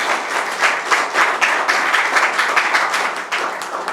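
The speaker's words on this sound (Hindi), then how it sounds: "संजय मेहता सर की एक बार जोरदार तालियां।" Loud, steady applause from a theatre audience greeting actor Sanjay Mehta before a Hindi stage play, dense clapping sustained without a break for about four seconds.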